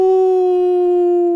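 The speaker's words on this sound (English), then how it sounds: "You hear a wolf howl from the south." A wolf howl sound effect sounds in a tabletop role-play session: a loud, clean, sustained single tone holding steady for over a second, then cutting off abruptly.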